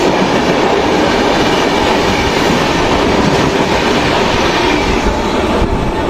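Gatimaan Express overtaking on the adjacent track, a steady loud rumble of a passing train heard from inside another moving train, with continuous wheel and wagon noise throughout.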